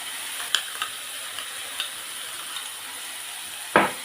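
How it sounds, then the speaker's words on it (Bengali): Tomatoes fry in oil in a pan for stuffed pointed gourd curry, giving a steady close sizzle broken by a few soft spatula scrapes and one sharp stir near the end; no talking. "ভালো করে ভেজে নেবো আমি টমাটোটা"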